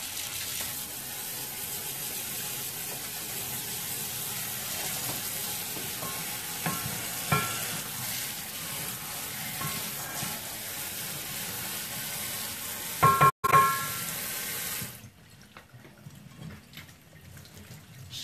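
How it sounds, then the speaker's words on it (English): Cold tap water runs steadily over cooked gluten-free pasta in a colander, a continuous hissing splash with a few clunks before the flow cuts off and leaves light dripping. "Now I'm going to want to rinse this pasta, and I'm going to use cold water."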